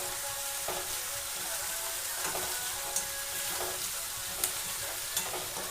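Chutney ingredients warming and sizzling in a hot pan, a steady frying hiss with occasional soft stirring clicks, close and moderately loud, no voices.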